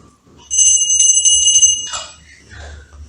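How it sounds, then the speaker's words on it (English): A small bell rings in a rapid, ringing flurry for about a second and a half, loud and close, then fades with a few softer rings, in a temple setting. "You got to ring the bell before you close the curtain in there."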